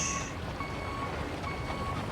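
A truck in the RoadCraft video game sounds steady reversing beeps, thin repeated tones sitting under a constant loud engine drone that fills the whole stretch.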